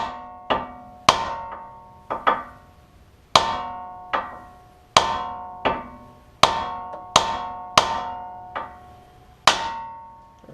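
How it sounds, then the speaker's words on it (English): Repeated sharp metallic strikes of a brass drift hammering a stud loose on a 2007 Honda Civic subframe, about fourteen ringing clanks at an uneven pace, close and loud with no talking. "Make sure whatever you use to hammer this down, you don't damage your threads"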